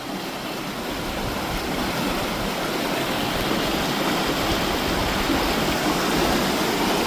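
Swift Creek rushes rapidly beneath a bridge on the Florida Trail, a steady, loud broadband roar of flowing water with no voices.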